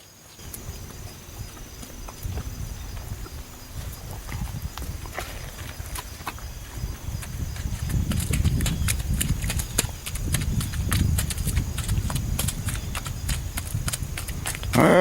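Hooves of confiscated horses in Clay County, Kentucky clip-clopping on a hard surface, a steady walking rhythm that grows louder and closer, with crisp sharp knocks over a low rumble.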